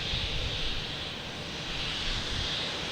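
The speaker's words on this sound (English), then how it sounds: "But before that, we have a takeoff." A JetBlue Embraer E190 jet takes off at Boston Logan, its engines a steady, broad roar held at an even level throughout, fairly distant and unbroken by talk.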